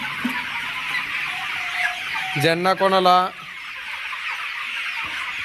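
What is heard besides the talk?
chickens clucking on poultry farm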